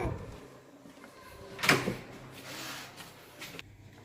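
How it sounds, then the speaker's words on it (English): A hotel room door at Ocean Coral Springs is opened with a sharp latch click and a short creak, followed by softer rustling in a quiet room. "let me see if we can open the door"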